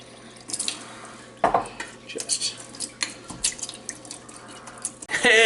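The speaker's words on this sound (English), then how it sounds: "Let's get our lukewarm water in here." Lukewarm water pours and splashes into a container to flush out a molasses-coated spoon, with intermittent trickles, drips and clinks of the spoon against the vessel, close and fairly loud.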